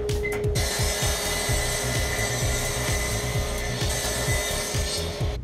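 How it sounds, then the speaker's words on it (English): A table saw trims excess off glued-up workbench legs, a loud steady whining drone with a rapid rhythmic low chatter underneath throughout, close and continuous with no talk. "I'm going to go ahead and use my table saw to trim off the excess so that everything sits nice and flat"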